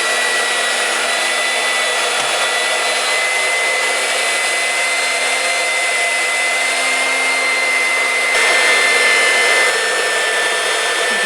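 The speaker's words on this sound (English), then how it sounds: "I'm just pushing the meat down into the grinder. Grinding it up and getting it in the bowl" A meat grinder working chicken, pork and beef as the meat is pushed down into it, a loud continuous motor whine with steady whooshing noise, unbroken throughout and close.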